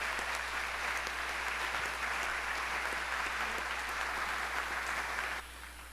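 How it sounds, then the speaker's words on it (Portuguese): A church congregation applauds together, a steady dense wash of clapping heard at a moderate distance, holding evenly before dropping off abruptly near the end. "Aplauda o Senhor."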